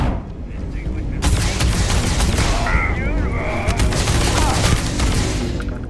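Heavy ballistic gunfire from Starfield, a sci-fi shooter, comes as dense, continuous bursts of loud shots with booming impacts, filling the scene without letup and overlapping busy game effects.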